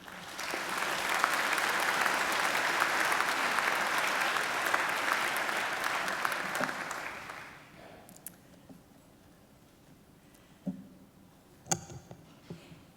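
A graduation ceremony audience at Macquarie applauds to welcome Elizabeth Allworth. Dense, steady clapping fills the hall for about seven seconds, then fades to scattered claps and small sounds.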